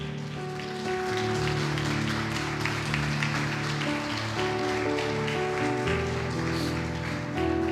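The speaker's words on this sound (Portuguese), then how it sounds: "Aplaude bem forte ao nosso Senhor e Salvador." Church congregation at a celebration service clapping steadily and loudly, blended with organ or keyboard chords sustained underneath, a dense continuous patter without pauses.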